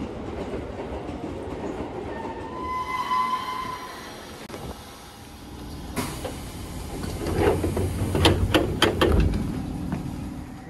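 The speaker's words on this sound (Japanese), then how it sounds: "それでは、ここで後続の快速特急に乗り換えます。" Keisei Electric Railway rapid limited express train rumbling along, with a rising hum, then louder clickety-clack over rail joints and sharp metallic clunks toward the end, heard steadily from on board or nearby.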